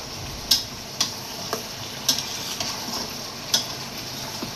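Pumpkin sautés with spices in a pan, a soft sizzle broken by a handful of sharp, spaced taps as a spatula strikes the pan, heard close with no talking.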